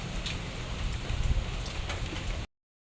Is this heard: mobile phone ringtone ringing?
no